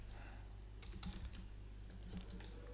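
Quick typing on a computer keyboard while working in BricsCAD, a short run of close, light key clicks over a faint steady hum.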